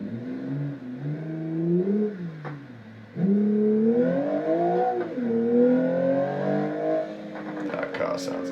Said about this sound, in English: That car sounds amazing.